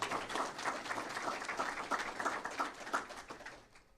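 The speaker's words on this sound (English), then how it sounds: "you can clap for that" Audience applause at a public event in St. Cloud with the Florida governor, a steady, moderately distant patter of many hands clapping that holds for several seconds and thins out at the end.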